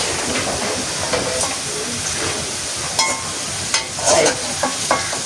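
Food frying in hot oil gives a continuous loud, close sizzle and hiss, with scattered pops and brief clatters of utensils stirring throughout.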